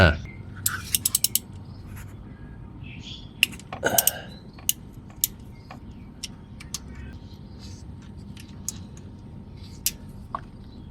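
Ratchet wrench clicking as it loosens a 10mm bolt on the crankshaft position sensor of a Kia Cerato (K3), with short bursts of clicks and scattered mechanical taps against a steady low background hum in a garage.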